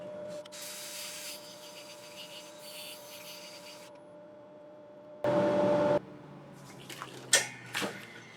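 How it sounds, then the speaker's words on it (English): Sandpaper rubbing against the spinning rim of an elm bowl on a lathe, 120 grit, giving a steady soft hiss over motor hum, with a louder burst of abrasion partway through and a few brief knocks near the end. "So I'm just going to sand this rim with the first groove, so which is 120"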